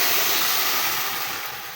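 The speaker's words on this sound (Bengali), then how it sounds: "এবার আমি দিয়ে দেবো পরিমাণ মতো গরম পানি।" A loud, steady hiss of hot water poured onto frying rice for biryani, sizzling and steaming continuously and fading slightly toward the end.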